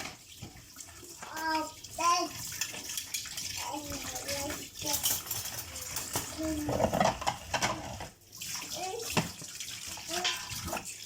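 Dishes are rinsed under a running tap in a home kitchen after lunch. The water rushes and splashes steadily, with faint clinks and a voice speaking briefly over it.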